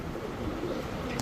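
Pakistani Chinese teddy pigeons coo softly and continuously from close by in a pigeon market, with a low murmuring rumble and a faint burst of brighter noise near the end.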